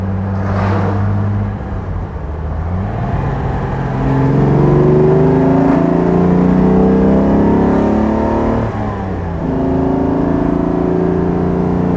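A 1962 Mercedes 300 SL Roadster engine runs steadily close by, its smooth hum rising and falling slightly as the revs shift, with no voices.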